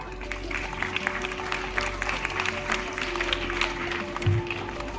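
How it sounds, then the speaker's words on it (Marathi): Audience clapping steadily through the whole stretch in a hall at a women's day event at a teachers' college, a dense wash of hand claps with murmuring beneath and a low hum. "त्यांच्यासाठी एकदा सगळ्यांनी टाळ्या वाजवा."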